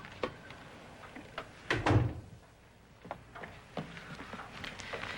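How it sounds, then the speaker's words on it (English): A door opened in a quiet home at night in a period family drama, with a few soft clicks and knocks and a louder clunk of the latch and door near the middle, close by and without talk. "I'll open the door."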